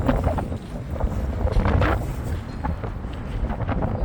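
Steady wind buffets the microphone outdoors on the cobblestone streets of South Street Seaport, New York, in December, a continuous low rumble with gusts rising and falling throughout.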